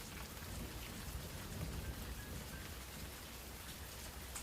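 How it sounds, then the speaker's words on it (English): Steady rain falls throughout, a soft, even hiss of drops with no distinct thunderclaps and no voices. "It begins to rain."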